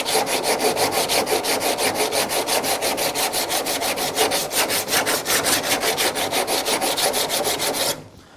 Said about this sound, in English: So I'll hit it with a file just a little more